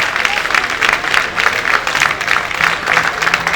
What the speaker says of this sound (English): I thought we would clap with a standing ovation.